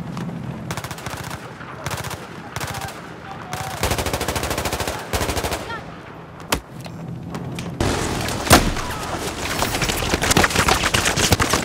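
Gunfire in the Battlefield 4 video game: bursts of rapid automatic fire and single shots, loud and close, with brief pauses and a sharp explosive crack partway through.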